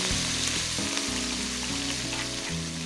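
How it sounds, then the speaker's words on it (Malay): Steady, loud sizzling of pounded spice paste with belacan shrimp paste frying in hot oil for mee sup, a continuous crackle with occasional low clatter of stirring, no talking. "Kemudian bahan-bahan yang kita tumbuk tadi, kita tumis"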